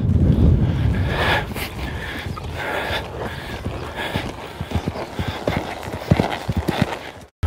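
A horse in a rolling canter over bounce jumps, its hooves thudding in a steady three-beat rhythm on the ground, with gusty wind noise on the microphone throughout.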